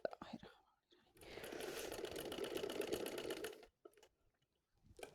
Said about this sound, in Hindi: इसके बाद हम इधर से लगा लेंगे सिलाई।